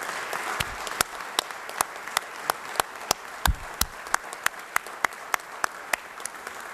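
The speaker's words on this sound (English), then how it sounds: "Would you please give them a round of applause for all they've done?" Applause at a veteran recognition ceremony for a veteran's family, thin and sparse: a small audience clapping with individual sharp claps standing out in a loose rhythm, moderately close, over a faint room murmur.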